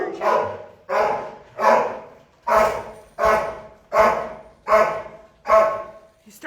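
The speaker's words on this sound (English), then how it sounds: "He's been barking so much." A boxer plott hound mix at an animal shelter barks repeatedly, about one loud, slightly hoarse bark per second in a steady rhythm, close and alone.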